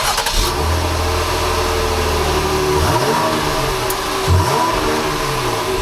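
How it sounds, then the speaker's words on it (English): A Jeep Grand Cherokee's exhaust at the tailpipe, with a steady low idle rumble punctuated by a couple of quick throttle blips that rise and fall, heard close and loud with no talking. "And now we'll have a listen to the exhaust."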